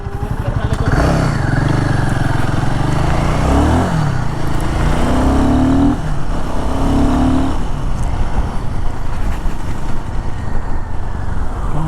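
A KTM Adventure 390 X or Himalayan 450 motorcycle engine revving up and pulling away, loud and close, its pitch rising with the throttle over steady road noise.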